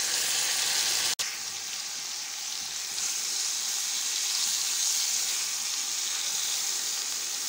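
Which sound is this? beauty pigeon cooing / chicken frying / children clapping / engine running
chicken frying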